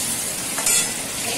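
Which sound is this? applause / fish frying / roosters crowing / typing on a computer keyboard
fish frying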